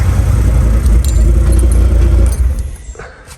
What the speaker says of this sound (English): You guys can hear underneath the exhaust is rattling too